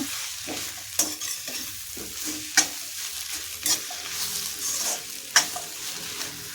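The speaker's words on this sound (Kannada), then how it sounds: "ಕಾಲು ಕಪ್ಪು ತೆಂಗಿನ ತುರಿಯನ್ನು ಸೇರಿಸಿ ಇದನ್ನು ಮಿಕ್ಸ್ ಮಾಡ್ತಾ ಒಂದು ನಿಮಿಷ ಹುರ್ಕೋಬೇಕಾಗುತ್ತೆ" A beetroot chutney mixture with grated coconut is stirred and roasted in a pan, giving a steady sizzle broken by regular scraping strokes of the spoon roughly every second, close and loud, with no talking.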